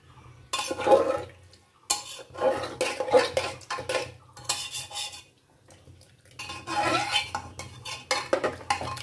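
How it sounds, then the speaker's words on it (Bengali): Ridge gourd sabzi being stirred with spices in a pan, a utensil scraping and clinking against the metal in several close bursts of stirring separated by brief pauses. "মশলাগুলোকে ভালো করে নাড়িয়ে ঝিঙের সাথে মিশিয়ে নিলাম"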